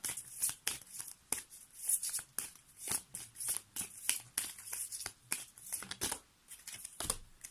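Tarot or oracle cards are drawn and handled during a reading, giving close, crisp snaps and riffling bursts in an irregular rhythm, with no talking.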